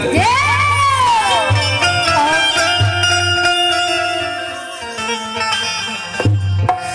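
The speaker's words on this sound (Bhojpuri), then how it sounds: "जोरदार ताली हो" A crowd at a Bhagait devotional stage performance claps and cheers loudly throughout, with shouting voices and a sustained musical drone underneath.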